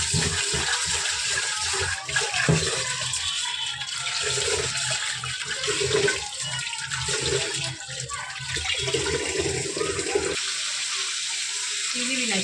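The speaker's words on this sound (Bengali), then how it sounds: "তো চালটাকে আমি ধুয়ে নেব" Rice is rinsed under running water in a home kitchen, a continuous splashing gush of tap water with sloshing in a pot, fairly close and loud, briefly easing near the end.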